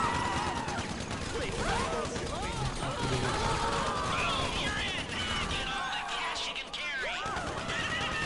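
Gunfire in the video game GTA 5 bursts out amid a dense, busy game soundtrack, with horse whinnies and mechanical clatter layered over it at a steady loud level.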